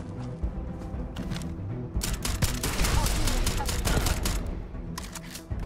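Rapid gunfire and heavy weapon blasts from a space shooter game crackle loudly and densely, the bursts building through the middle and easing toward the end.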